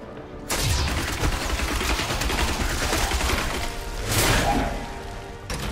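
Rapid Fire attack in Diablo 3, a relentless, loud stream of rapid shots and impacts running unbroken for several seconds, swelling briefly near the end.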